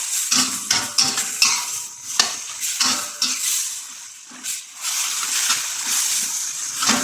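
Chili and pepper stir-fried in a pan, with a spatula clattering and scraping against the metal in quick repeated strokes over a steady loud sizzle, close up and with no talking.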